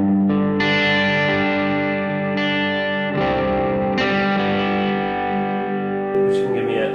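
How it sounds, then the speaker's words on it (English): Electric guitar played through a light cave reverb pedal setting, sustained chords ringing with a soft reverberant wash, restruck every second or two, steady and fairly loud with no talk. "Which can give me a light reverb."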